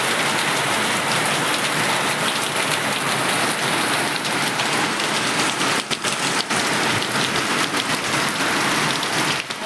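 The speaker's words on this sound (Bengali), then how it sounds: "আর দেখো বৃষ্টিটা, রোজ বৃষ্টি হচ্ছেই একবার করে।" Steady, heavy monsoon rain pours down continuously, a dense hiss of drops hitting surfaces with occasional louder splashes, close and unbroken throughout.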